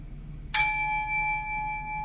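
A single meditation chime struck once during a guided breathing exercise, a bright metallic strike followed by a long, clear ringing tone that sustains steadily to the end without fading much.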